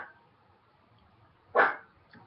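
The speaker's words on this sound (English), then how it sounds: "Daisy's barking." A dog named Daisy gives a single sharp bark, heard at moderate distance in a quiet room, followed by a faint softer yip.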